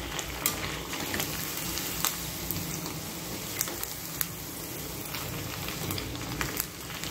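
Sabudana vadas, tapioca pearl fritters, fry in hot oil in a pan over a high flame, giving a steady dense sizzle and crackle with sharp pops scattered throughout, close and continuous with no talking.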